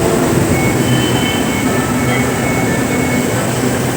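A loud, steady roar of an LRT train at Yamaha Monumento station in Manila, with continuous rail rumble and faint wheel noise close by, and no talking.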